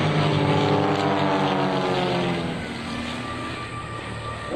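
Fighter aircraft flying past at an air show at NAS/JRB Willow Grove, a loud, close engine roar with a sweeping pitch shift as it passes, then fading to a steadier, quieter rumble.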